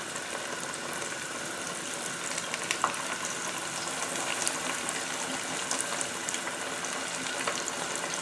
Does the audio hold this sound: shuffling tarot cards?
no